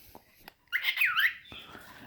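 A pet cockatiel lets out a shrill, raspy squawk lasting about half a second, close and loud, followed by softer chirpy vocal sounds in a quiet room.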